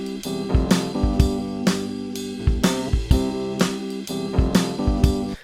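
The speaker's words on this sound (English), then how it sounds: "So we just have an electric piano loop and we have a drum set loop." Looped electric piano chords over a drum kit loop with a steady groove: punchy kick and snare hits, bright cymbal crashes on the downbeats, and sustained keyboard harmony underneath, close and full with no talking.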